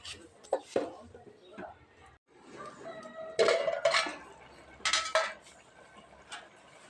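A metal lid clanks onto a pot of bitter gourd curry on the stove, with a few sharp clatters scattered through the clip while someone talks.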